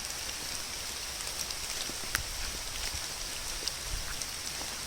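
Heavy rain pours steadily on a muddy path in Bangkok, a dense, constant hiss with occasional louder drops landing close by.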